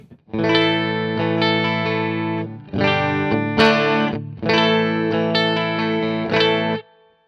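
Clean electric guitar through a tube amp rings out in three sustained strummed chords, each held for about two seconds before a short gap, bright and full with a slight shimmer.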